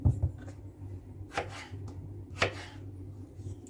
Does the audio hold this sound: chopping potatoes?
yes